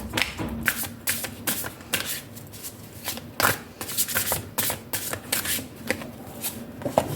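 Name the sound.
shuffling tarot cards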